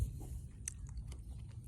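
Someone chews a ripe Nam Dok Mai mango close to the mic. Soft, wet chewing and a few faint crunchy bites come through against a quiet background.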